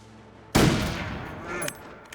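A single loud gunshot fired at a bear in the survival video game The Long Dark, a sharp blast followed by a long decaying echo and reverberant tail.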